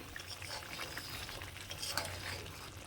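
Bengali morla fish curry with mustard oil bubbling in a pan, a steady close simmering and light sizzle with soft stirring scrapes, no voices.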